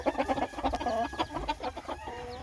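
A broody hen clucks steadily over day-old chicks, a close run of repeated throaty clucks and low murmurs with faint background cheeping, no talking.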